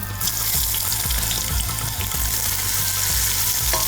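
Onion slices sizzle and crackle in a hot pan, a loud continuous fry with occasional stirring clatter close by.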